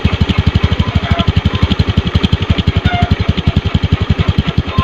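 A Honda Beat scooter engine idles after a carburetor adjustment, a loud, close, even pulsing putter with a fast steady rhythm and no voices.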